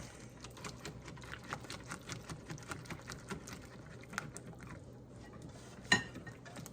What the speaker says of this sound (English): definitely use a protected whisk so that you don't scrape up the bottom of your pan